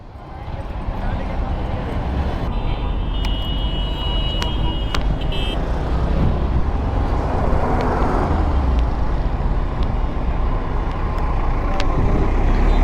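A motorcycle held in first gear strains to tow a private car, with a loud, steady engine roar and road rumble filling the whole stretch and voices in the background.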